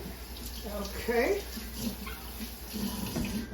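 Kitchen tap water runs steadily into a sink while hands are washed during cooking, a soft continuous splashing under a brief spoken word.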